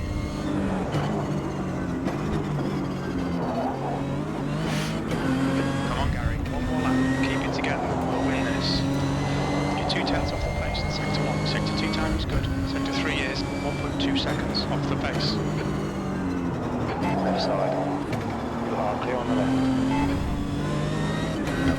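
A sprint car in the racing game Automobilista 2, on a Brazil setting, drones close and loud for the whole stretch, its engine note rising and falling steadily as it laps.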